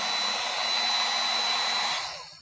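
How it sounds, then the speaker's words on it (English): A heat gun set around 450 to 550 degrees blows hot air onto an aluminum dent at an Aluspot repair station, a steady close whooshing roar with a faint whine that tapers off at the end, with no talking. "So the heat gun, we're going to go to 450, 550 degrees. We're going to heat up the dent while we're pulling."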